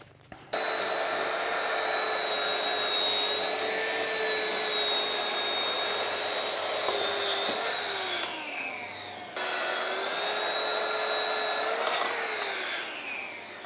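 A track saw rips plywood sheets into 4-inch strips with a loud, steady whine that runs for about eight seconds. The motor winds down, then it starts again for a second cut.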